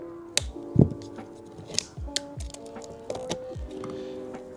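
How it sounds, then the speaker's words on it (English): Plastic zip tie on a Porsche 911 seat harness being snipped, a few sharp clicks and snaps amid light handling clatter, close and alone. "This zip tie you'll cut."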